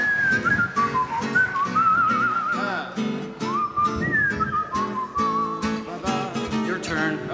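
A person whistles a wandering, lilting tune up close, the bright pitch sliding and trilling over soft piano-like accompaniment, clear and continuous for several seconds.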